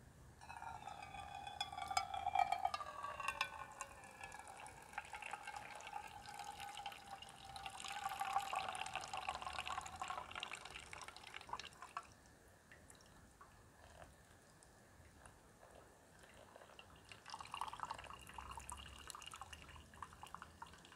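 Hot water trickles slowly from a cone held over a cup, brewing bushcraft coffee outdoors; a soft, continuous pouring and dripping that rises and fades, quiet and close.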